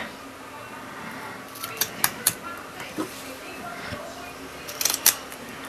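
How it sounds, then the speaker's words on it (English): Good ribbon scissors snip the end off a heavy-duty ribbon during a card-making session, giving a few sharp, close metallic clicks and cuts, with a final cluster of snips near the end over quiet room tone. "I'll just snip that end bit off first."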